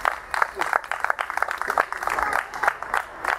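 Audience clapping at a live trio concert in an outdoor amphitheatre in Viareggio, a dense patter of many hands that keeps going under a voice on the microphone.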